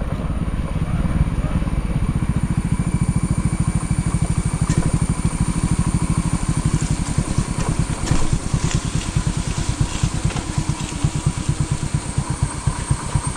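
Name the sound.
motorcycle engine idling near a bridge over a stream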